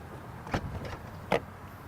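Hatch of a 2018 Volkswagen Golf GTI opening, heard as two short, distinct mechanical clicks about a second apart, close by and fairly quiet, with no talking.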